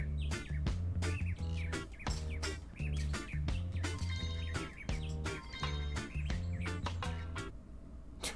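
Bird song from the De Blob video game plays as bright repeated chirps and tweets over a rhythmic game music backing, loud and steady throughout with no talking.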